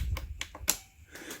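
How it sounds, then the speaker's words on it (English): A few sharp, dry clicks spaced irregularly, close by and fairly quiet, with a low hum underneath, from a 4000A portable car jump starter. "It's making a clicking noise."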